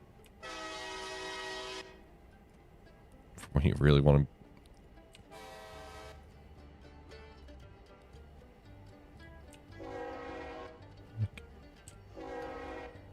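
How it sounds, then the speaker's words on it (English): Small shop switcher locomotive horns in a railroad simulation game sound in several separate harmonic blasts, one short loud burst in the middle, with a person talking between them. "that's the little shop switcher horns"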